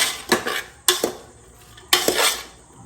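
Onions being sautéed in a pan for a Kerala-style beef dish, with a utensil clanking against the pan in three separate bursts of stirring and scraping, close and moderately loud.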